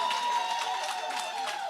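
Audience applauding and cheering at a shadow minister's launch event, a steady wash of clapping and crowd noise sustained at moderate loudness throughout.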